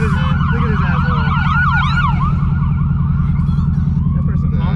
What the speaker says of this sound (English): Hold on, we got siren.